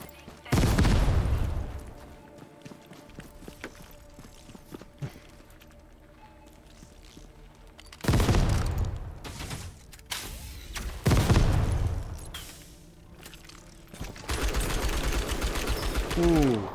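Enemy automatic gunfire in the video game Outpost Infinity Siege comes in several loud, long bursts separated by quieter gaps, with footsteps and game noise between them and a voice speaking at times.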